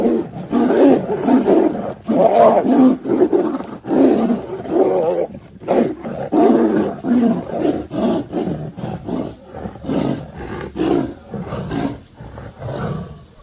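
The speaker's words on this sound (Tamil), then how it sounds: "பயங்கர கர்ஜனையுடன் புலிகள் 2 தாக்கிக் கொள்ளும் வீடியோ வெளியாகி அச்சத்தை ஏற்படுத்தியது" Two tigers fighting in Ranthambore National Park roar and snarl in repeated loud, close bursts, deep growls rising and breaking off in an uneven rhythm over about thirteen seconds.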